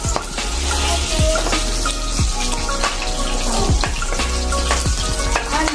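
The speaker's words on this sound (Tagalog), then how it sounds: "Bawang pa lang yung iyong pagigisa mo." Garlic and onion sizzling as they sauté in a pan, a loud steady crackle with frequent sharp pops and spatters and occasional clinks of stirring, no talk.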